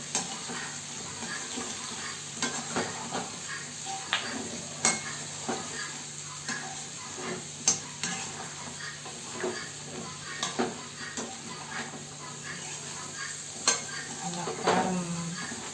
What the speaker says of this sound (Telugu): వేసాక బాగా కలుపుకోవాలి బాగా కలుపుకున్నాక